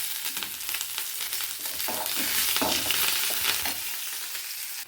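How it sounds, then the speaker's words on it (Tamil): Chopped onions and curry leaves sizzle and crackle in hot oil in a pan for Tamil-style sambar, a loud, close, continuous frying hiss with stirring scrapes and no talking. "வெங்காயம் நல்லா வதங்கிட்டு இப்போ நம்ம கருவேப்பிலை போட்டுக்கலாம்."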